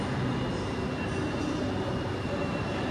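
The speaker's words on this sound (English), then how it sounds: "next up for departure from platform 5 will be this 805 here" An Avanti West Coast Class 805 train sits at a London Euston platform, a steady broadband rumble and hum of the idling unit filling the station, even and unbroken throughout.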